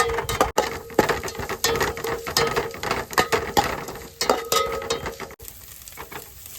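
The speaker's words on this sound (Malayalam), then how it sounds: "കുറച്ച് നേരം ഇളക്കണം" Onions, chilies and curry leaves frying for a beef fry are stirred in a pan, a steady loud sizzle with repeated scraping strokes of the spoon, close up and without talk.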